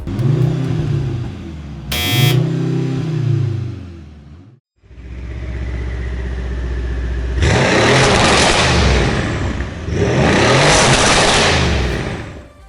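A Mercedes-AMG M139 four-cylinder engine revs hard in loud rising and falling bursts, with a brief cut to near silence midway before two long, harsh high-rpm pulls.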